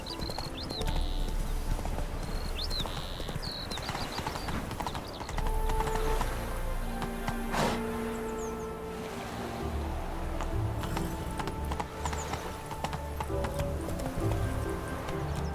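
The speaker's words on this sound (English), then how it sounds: "Whoa there, Roach." A horse's hooves clip-clop steadily in The Witcher 3, a rhythmic, fairly close hoofbeat pattern mixed with game ambience, a brief neigh, and a voice speaking in between.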